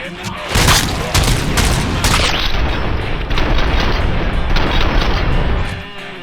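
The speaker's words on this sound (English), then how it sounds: "I just like shooting them" Gunfire in the video game Robocop: Rogue City comes as loud, dense bursts of shots and booming impacts, packed close together over a heavy rumble, with a voice briefly audible in the mix.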